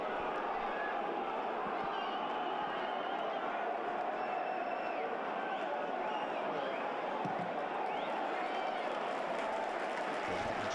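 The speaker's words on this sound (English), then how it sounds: "Just hear the crowd there trying to encourage the Rotherham players to go and press." A football crowd in a stadium during Rotherham United against Sunderland keeps up a steady, loud roar of encouragement urging the home players to press, with a faint voice over it.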